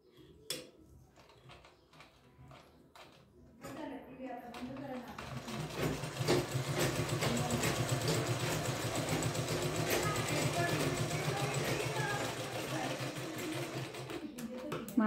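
Sewing machine stitching a stand collar, starting with a few short bursts and then running in a steady rapid mechanical whir, while a person talks over it.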